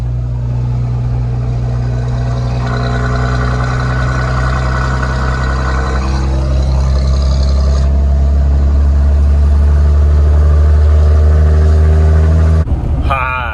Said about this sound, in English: Diesel engine go brrr